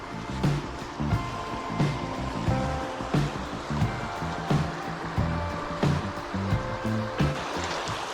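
Rushing river rapids churn steadily and loudly in the foreground, with rhythmic surges of water noise and no talking.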